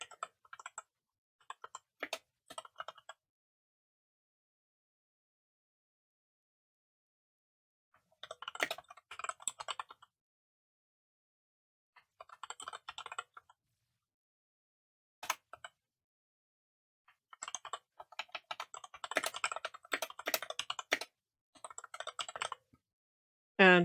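Bursts of keyboard typing on a computer, close and fairly quiet, with clusters of rapid keystrokes separated by long silent pauses and no talking.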